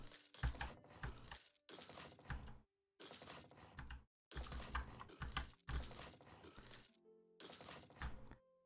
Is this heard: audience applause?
no